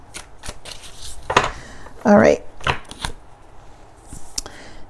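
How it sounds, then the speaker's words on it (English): A deck of tarot cards being shuffled, with a few quick riffling bursts and one louder flurry in the middle, close by and clear under a woman's brief spoken remark. "while I shuffle"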